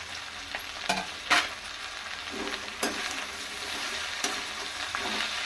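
Sliced okra (bhindi) frying in oil in a pan, a steady crackling sizzle broken by a few louder scrapes and knocks of stirring, close and alone with no talking.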